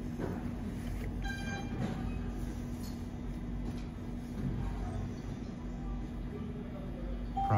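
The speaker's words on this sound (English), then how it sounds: "the next red line train through Alewife is now approaching" A Red Line subway train approaches Andrew station toward Alewife, a steady, loud underground rumble and rail roar that fills the platform throughout, with a faint high whine and a slight swell near the end.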